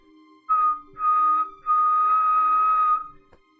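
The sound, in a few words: whistle blowing in the distance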